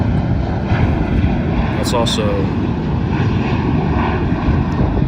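A Boeing 737 airliner takes off from CLT airport, a loud, continuous engine roar heard from nearby, with a brief spoken word over the steady rush.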